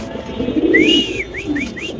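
Pigeons on a pigeon farm give a soft low coo under a string of short rising whistled calls, several quick notes repeating close by over steady background noise.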